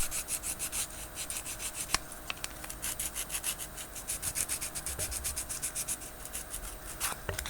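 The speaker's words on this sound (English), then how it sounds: "giving that edge just the tiniest little rub" A Hobby Boss 1/16 scale Tiger tank model part has its edge rubbed in quick, repeated scraping strokes, close and crisp, with a couple of sharper clicks from handling.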